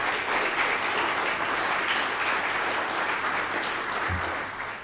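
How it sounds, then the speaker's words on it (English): A conference audience applauds the organizing team at a submarine-building event, a steady dense wash of clapping that holds evenly and tapers slightly near the end. "Could you please give them a round of applause"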